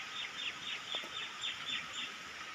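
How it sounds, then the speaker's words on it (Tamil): Many chickens clucking at a distance on a poultry farm, a dense, faint chorus of repeated calls with a rhythmic rise and fall. "இது பூரா கோழி பண்ணை"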